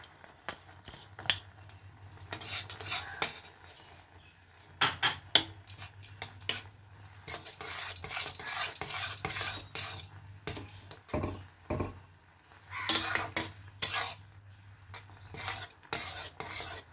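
Nolen jaggery is tipped into a simmering plum (topakul) chutney and stirred in, giving repeated scraping and clinking spoon-on-pot strokes in irregular bursts over a low steady hum, moderately close with no talk.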